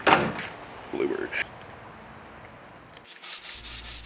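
Hand sanding of a wooden slab in a skoolie workshop: a few short rubbing strokes near the start and around the one-second mark, then quieter shuffling and a door-like clatter toward the end.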